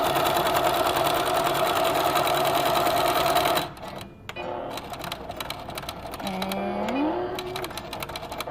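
A sewing machine whirs steadily while stitching fabric edges with backstitching, then cuts off partway and gives way to quieter clicks and handling noises, with a faint sliding tone near the end.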